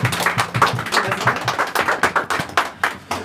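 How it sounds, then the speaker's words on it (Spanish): A small crowd at a birthday celebration with a mariachi band applauds after a dedication: steady, dense, close hand clapping that carries on for the whole stretch, with no speech over it. "Un aplauso bien lindo"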